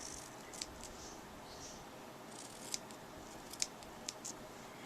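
Scissors make a handful of faint, sharp snips while cutting chevron ribbon, spaced irregularly over a quiet, hissy room background.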